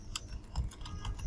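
A short burst of typing on a computer keyboard while searching for an Elementor add-on, a handful of close, quick key clicks in an uneven rhythm.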